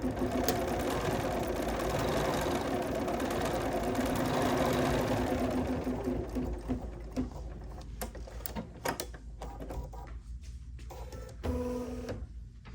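A Kimberbell embroidery machine stitches the center cross of a trapunto pillow, a steady fast mechanical whirring hum that runs continuously, then breaks into stop-start clicks and pauses near the end.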